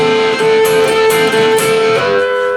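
Electric guitar riff played up close, steady sustained notes with a slide and a continuous, even tone.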